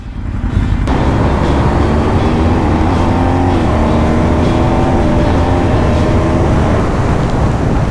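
Car cruising along the Cobb Highway near Ivanhoe in outback New South Wales, a steady loud engine drone with road and wind roar filling the whole stretch, tone shifting slightly as it drives.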